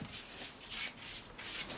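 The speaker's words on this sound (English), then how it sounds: "that was sanding all the plywood" Steady rasping strokes of sandpaper rubbing over plywood, repeating in a loose back-and-forth rhythm, close by and fairly quiet.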